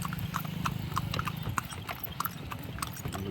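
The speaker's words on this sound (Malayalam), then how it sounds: "മുരുകൻ്റെ അടുക്കയിലേക്ക് കുതിര വണ്ടി ഇനി കയറണമെന്നുണ്ട്" Horse hooves clip-clop in a quick, steady rhythm over a low rolling rumble from a horse cart in Palani, fairly close and continuous.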